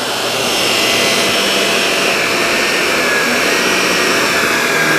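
Shark DuoClean vacuum cleaner runs on its carpet setting with a loud, steady whooshing motor roar close up, rising slightly at the start and holding constant.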